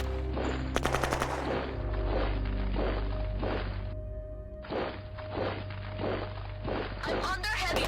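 Dense automatic gunfire from the strategy war game Shadow Empire, with rapid machine-gun bursts and repeated heavy impacts over a steady low rumble, while a voice speaks over the battle.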